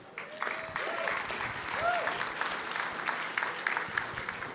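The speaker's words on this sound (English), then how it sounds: "How about a round of applause for the first panel?" A conference crowd applauds a petrochemical leadership panel taking the stage, with steady clapping from many hands, voices and faint tonal sounds mixed in.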